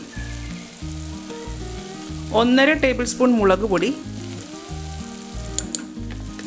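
Tomato with turmeric, coriander and chili powders sautéing in a pressure cooker for a quick chicken curry, a steady close sizzle running under background music, with a voice briefly speaking over it.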